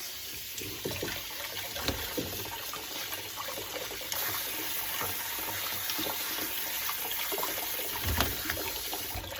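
Tap water runs steadily into a sink as canned cannellini beans are rinsed, a constant splashing hiss with occasional clunks of the can.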